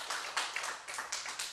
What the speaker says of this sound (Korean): 영광의 박수 하나님께 한 번 더 올립니다